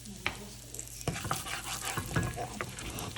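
Onions and ginger garlic paste hit a hot pan for dhaba-style matar paneer, giving close sizzling and frying with scraping stirs and pan clatter, no voice heard.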